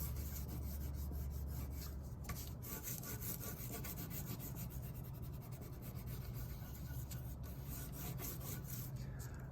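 Brown crayon rubbed back and forth on paper, a steady rasping scrape with quick repeated strokes, close and continuous.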